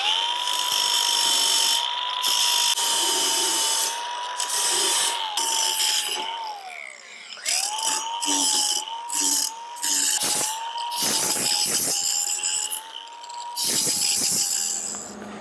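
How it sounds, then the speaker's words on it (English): An angle grinder fitted with a grinding wheel cleans up metal edges for a Kubota tractor brush guard, giving a loud, steady high whine broken by short pauses and shifting pitch as it bites the metal. "Just gonna clean up some of these edges with the grinder."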